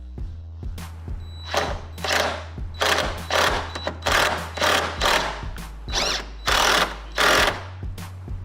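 A socket ratchet tightens a battery hold-down nut with repeated bursts of clicking, each stroke a short rhythmic run of pawl clicks, close and clear over a steady low hum.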